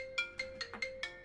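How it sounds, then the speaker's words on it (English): A phone ringtone in the video game Lobotomy Corporation plays five quick chiming pulses in a steady rhythm, fairly faint and with no talk over it. "Phone call, guys, 1 minute."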